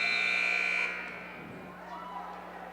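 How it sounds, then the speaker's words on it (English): A loud, sustained basketball game buzzer ends the quarter at a high school boys' game in Delta, Utah, sounding steadily for almost a second before cutting off into crowd and gym ambience. "He puts up a long one way before the buzzer."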